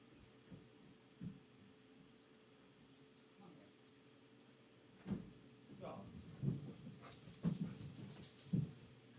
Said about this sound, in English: my dog is freaking out upstairs